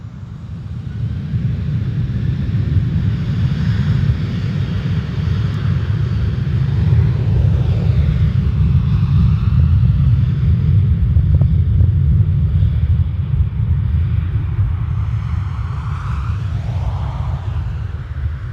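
An airplane at Dublin Airport, probably taking off on runway 10 right, gives a loud, steady broadband engine rumble that holds for the whole stretch without interruption.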